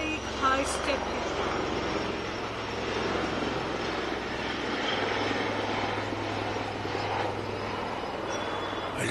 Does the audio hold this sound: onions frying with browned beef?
no